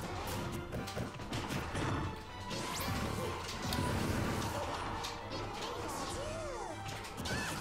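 A forward smash attack in a Super Smash Bros match lands among rapid crashing hits, whooshes and crowd-like game noise, with sharp impacts scattered throughout and a commentator talking over the action.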